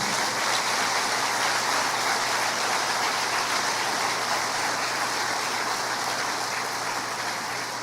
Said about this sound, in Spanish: Tenemos un Dios perfecto que merece otro aplauso de alabanza